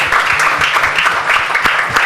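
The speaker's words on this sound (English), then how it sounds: "please put your hands together for Funke Ayinke's presentation right now" Loud, close audience clapping at a televised female debate, a dense, steady patter of many hands filling the whole brief moment.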